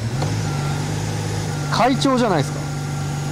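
A Subaru Alcyone's EG33 flat-six engine idles with a low, even, quiet hum throughout, and a person speaks briefly partway through.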